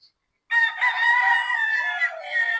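Boston cross 5K sweater gamecock rooster on a game farm giving one loud, close crow after a brief silence, a drawn-out cock-a-doodle-doo with a wavering tail.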